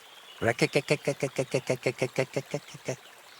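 A rapid run of about fourteen throaty croaks in a steady pulse, loud and close, comes from a voice imitating a toad in Kingdom Come Deliverance 2, then trails off into quiet.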